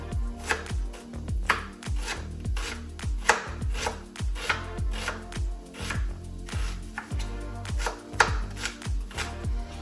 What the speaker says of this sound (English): I'm going to use half that onion, don't need the whole onion, and I'm just going to cut that down.